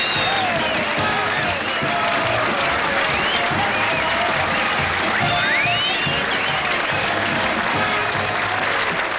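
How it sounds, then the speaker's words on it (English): Sustained applause from a theatre audience, dense and steady throughout, with some cheering and voices mixed into the crowd. "Oh, it's so good to hear that applause."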